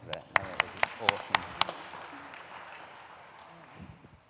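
A single person claps about seven times in a quick, evenly spaced run for a speaker at a First Nations entrepreneurship event, fairly close and moderate in level, fading into quiet room tone with faint voices afterward.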